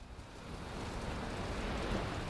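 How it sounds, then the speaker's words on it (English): Quiet, steady rain in the video game Valheim, falling as an even wash of soft hiss and patter with a low rumble underneath, faint and continuous with no talking. "We have rain here too"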